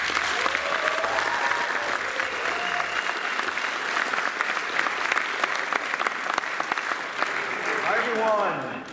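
Loud, sustained audience applause fills a conference hall as a keynote speaker is welcomed to the stage at DPC 2018 in Amsterdam, steady throughout and swelling slightly near the end.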